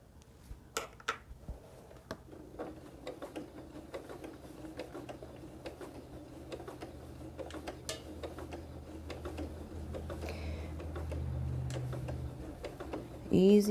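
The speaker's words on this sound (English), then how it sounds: "you want to just use your sewing machine, just take it nice and slow." A sewing machine runs at a slow, steady pace, its needle ticking in an even rhythm, with a person talking over it.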